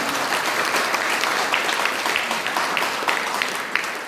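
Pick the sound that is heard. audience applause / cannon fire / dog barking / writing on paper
audience applause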